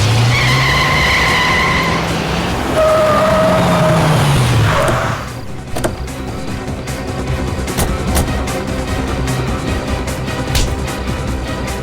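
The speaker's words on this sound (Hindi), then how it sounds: "गाड़ी तेज चलाओ पंकज, और तेज।" A car is driven fast in a chase, its tires screeching in drawn-out skids at close range for several seconds, followed by a rushing engine and road noise without speech.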